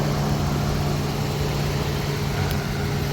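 A 2010 Lexus RX350's 3.5-litre 2GR-FE V6 idles smoothly and steadily, a constant low hum throughout with no voices.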